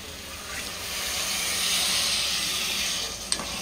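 Water is poured into a hot pan of sautéed ingredients for prawn rice, with a rising, then easing sizzle and steamy hiss, ending with a small clink.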